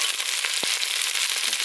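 Garlic sizzles steadily in a hot pan for an okra stew, a bright, dense crackling hiss heard up close with a soft knock partway through.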